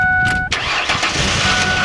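A car engine cranks and catches, a short starter burst followed by the engine firing and settling into a steady idle, loud and close.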